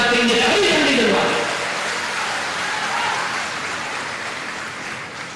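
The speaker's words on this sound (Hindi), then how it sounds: "अरे चंबल की तालियां बजाओ भैया" A political rally crowd in Gwalior claps loudly, a dense wash of applause that starts strong and gradually thins while continuing steadily, with a voice over it at the start.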